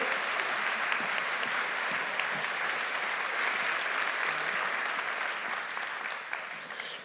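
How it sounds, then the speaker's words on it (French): A large conference audience applauds loudly and continuously, the steady clapping fading slightly near the end. "Je vous demande là encore d'applaudir très fort Olivier Barbeau."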